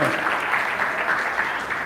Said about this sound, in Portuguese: Aplauda o Senhor por esse testemunho.